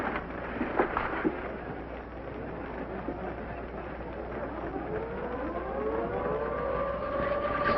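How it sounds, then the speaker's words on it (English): A civil defense air raid siren wails in the distance over rumbling background noise in a 1950s medical drama setting, its rising tone swelling steadily louder toward the end. "It's the second alert since the drop."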